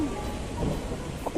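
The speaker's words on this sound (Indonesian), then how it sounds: "Aduh, sepertinya akan ada badai hari ini. Hujan telah turun." A thunderstorm with falling rain sounds as a steady, dense rush of rain with a low rumble beneath it. A voice speaks briefly over the storm.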